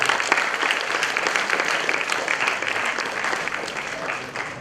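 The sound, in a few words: applause for the chief guest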